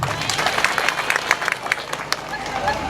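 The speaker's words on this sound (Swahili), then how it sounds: "Mjipigie makofi wenyewe." An outdoor crowd at a CCM party leaders' rally in Kiteto, Manyara applauds itself with dense, continuous clapping mixed with crowd noise and a speaking voice.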